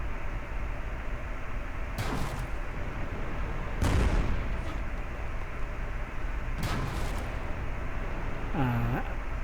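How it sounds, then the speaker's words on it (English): Tank cannon shots in World of Tanks, several sharp booming blasts spaced a few seconds apart over a constant engine rumble, with a ringing mechanical reload sound near the end. "Now I'm getting fired upon again."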